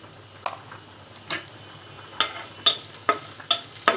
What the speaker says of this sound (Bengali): এদিকে পেঁয়াজের মধ্যে দিয়ে দিচ্ছি পাঁচফোড়ন, আর দিয়ে দিচ্ছি জিরে ফাঁকি